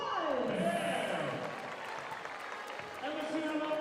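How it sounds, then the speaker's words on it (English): Applause from the crowd at a WNBL women's basketball game in Townsville, steady clapping filling the arena, with a voice talking over it. "give a round of applause."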